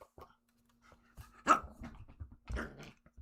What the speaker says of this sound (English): All that barking you can hear is my dog going nuts